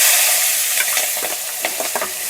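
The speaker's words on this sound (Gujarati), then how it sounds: "આપણે રાઈ જીરું નાખી દઈ ડૂકી જાય કે સર્વે નાશ મારજો તો વઘાણી નાખી દઈ લીમડાના પાન નાખી દઈ ને મરચું" Mustard seeds, cumin, curry leaves and chili tempering in hot oil, a loud close hissing sizzle with sharp crackles and pops as the spices hit the oil.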